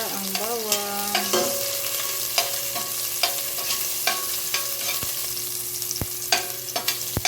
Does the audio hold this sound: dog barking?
no